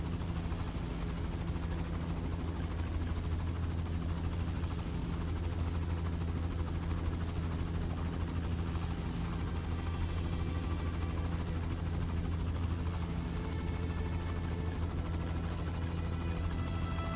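Helicopters in the Amazing Spider-Man 2 video game produce a steady, loud rotor drone with a constant low throb that holds unchanged for the whole stretch, with no other sounds.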